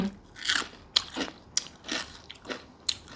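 Crispy deep-fried small crabs crunched in close, crisp bites, about half a dozen sharp crunches spaced across a few seconds with quiet chewing between them.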